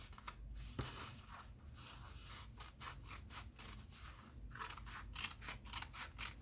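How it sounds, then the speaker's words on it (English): Scissors snip through paper in a quick, steady series of short crisp cuts, close up and quiet, with a soft thump near the start. "You could even use your cutter, you know, but it's so easy with the scissors."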